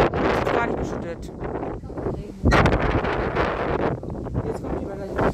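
Loud, rumbling wind buffeting the microphone in strong gusts of up to 100 km/h from a shelf cloud in Meschede, Germany, with voices talking underneath.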